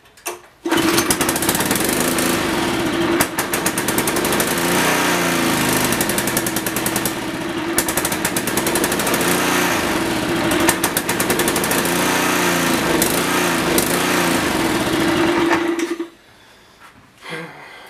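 A gasoline engine on a pressure washer with no compression and a dirty carburetor starts up and runs at a loud, steady buzzing drone for about fifteen seconds, then cuts off abruptly, leaving a faint quiet tail.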